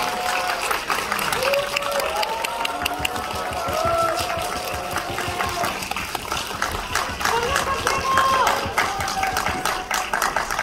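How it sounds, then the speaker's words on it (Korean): Audience at a drama screening and guest-visit event in a Seoul cinema applauding as actors and the director come onstage, a loud, sustained crowd clapping with a voice speaking over it. "뜨거운 박수 부탁드릴게요."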